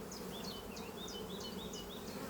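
Honeybees hum steadily around their hive in a dense, continuous buzz, with individual insects whining past close by and no voices.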